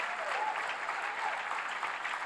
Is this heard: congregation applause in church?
yes